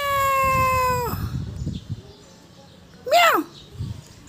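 A black cat with golden eyes gives one long, clear meow up close, then a second shorter, rising-and-falling meow a couple of seconds later, with soft background noise between.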